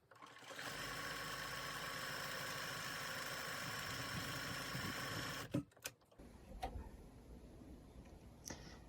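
A sewing machine runs steadily for about five seconds while stretched knit fabric is guided through to form a lettuce hem, then stops, leaving a few soft handling clicks and thumps.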